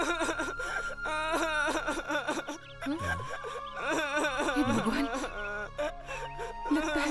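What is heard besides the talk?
child crying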